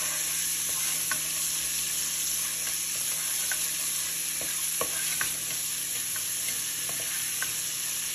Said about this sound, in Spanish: Estamos sofriendo el ajo